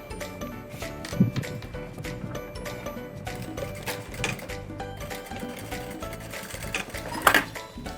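Sewing machine stitching a seam on a handmade fabric bag, a steady mechanical whir running through the whole stretch with brief louder clatters near the start and end, close and alone.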